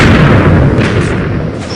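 TNT cannon blasts in Minecraft, a loud, close, rumbling explosion that fills the whole moment and then decays slowly with a dense roar.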